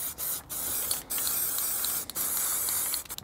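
A spray can of primer hisses loudly in long, steady bursts. Brief pauses break it up between blasts, and no one speaks.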